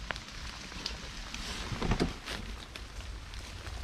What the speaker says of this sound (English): now the rain is just dripping through the holly and we're getting wet